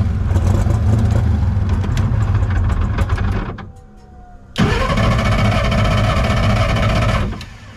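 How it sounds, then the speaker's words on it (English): A drag race car engine runs rough at high revs, lets off and drops to a sputtering near-idle, then roars back loudly for a few seconds before cutting off. "Engine sounds a little rough."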